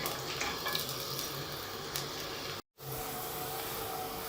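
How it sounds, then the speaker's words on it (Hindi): Chopped onions fry in oil in a karahi for mutton karahi, giving a steady, close, loud sizzle with a faint occasional stirring clatter, interrupted by one very brief cut to silence. "अब इसमें प्याज डाल लेंगे, हल्का ब्राउन करेंगे"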